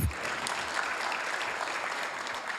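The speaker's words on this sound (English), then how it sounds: "let's give Zach a huge round of applause" A crowd at a volunteer awards ceremony gives Zach a round of applause, a continuous, even patter of many people clapping heard throughout at moderate level.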